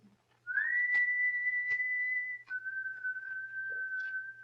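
A long, steady two-tone whistle sounds as a signal in a Sherlock Holmes radio drama: one sustained high note rises into place, holds, then steps down to a slightly lower held note, clear and alone over faint hum.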